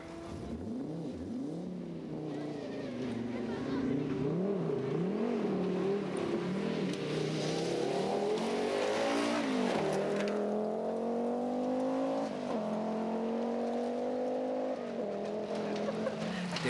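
Four-wheel-drive rally car spinning on a forest stage in Craigvinian Forest, Perthshire, engine revving and wavering in pitch as it slides, loud and close, with a commentator talking over it.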